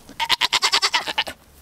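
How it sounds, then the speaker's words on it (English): A dairy goat waiting to be milked on a homestead lets out one long, close bleat, a wavering series of about ten quick pulses. "If you don't know, goat."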